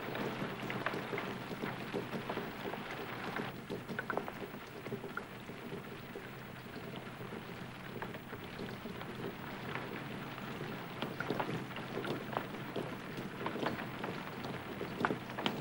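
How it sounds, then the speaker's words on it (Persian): Steady rain with distant thunder in northern Iran, a dense continuous hiss of drops on surfaces with faint low rumbles and occasional sharper patters, no voices. "این بارون شمالم که تمومی نداره"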